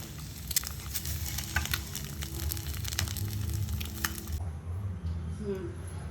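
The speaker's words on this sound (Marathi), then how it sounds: "आता चांगले शॅलो फ्राय झालेले तांडे आता आपण पलटून घेऊया" Boiled eggs shallow-fry in a pan with a steady sizzle and crackle, broken by a few sharp spattering pops, before the frying sound drops away toward the end.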